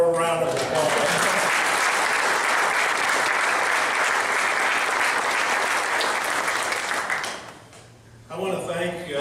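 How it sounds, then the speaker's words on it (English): Sustained round of applause at a county sports hall of fame induction ceremony, a full crowd clapping steadily for several seconds before fading, with someone speaking at the start and again after. "please give her one more round of applause"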